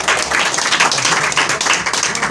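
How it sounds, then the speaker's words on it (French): An audience claps together through a French stage show, a dense, steady patter of many hands held close and loud from start to end. "Applaudissez un peu"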